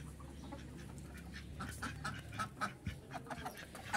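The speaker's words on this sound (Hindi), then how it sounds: "देखिए चिड़िया भी आई है" Birds calling near a nest of pet birds: faint quacking, clucking calls in short irregular bursts over a low background hum.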